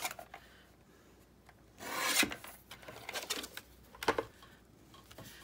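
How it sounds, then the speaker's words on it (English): Paper for a desktop calendar envelope is trimmed shorter, giving soft rasping, scraping cuts that rise into a louder stroke midway and a few quicker swipes near the end, close and quiet. "if I just trim this down a little bit, make it a tad shorter"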